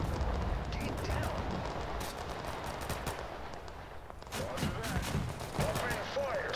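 Gunfire from the Total Conflict military video game, a dense continuous stream of rapid shots and bursts throughout, with bursts growing sharper toward the end and game voices calling out under the shooting.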